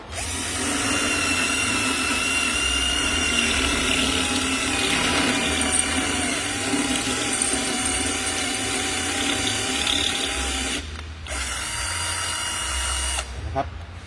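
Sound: Enzo 48V cordless drill drilling a concrete wall

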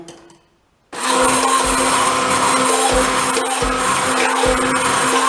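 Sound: hand blender mixing homemade mayonnaise

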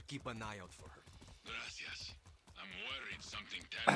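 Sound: horse hooves clopping in video game Far Cry 6

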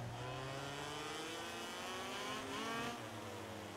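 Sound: motorcycle re-accelerating in MotoGP 18 video game

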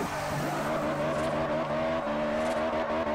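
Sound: Honda S2000 VTEC engine in Forza Horizon video game

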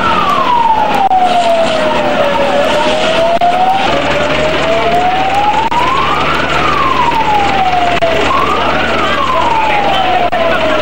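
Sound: fire engine siren

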